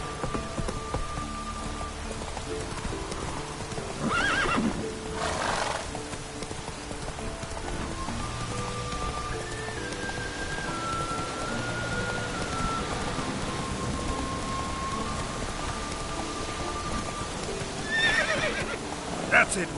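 A horse neighs and its hooves clip-clop at a steady pace amid rain in the Witcher 3 video game, with a musical tone running underneath and a brief voice.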